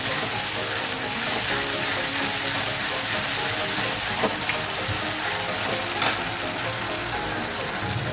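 Chicken sizzles steadily in a pan with garlic and ginger paste being sautéed, a continuous close frying hiss with a couple of brief scraping knocks from stirring.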